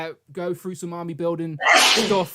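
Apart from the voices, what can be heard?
sneeze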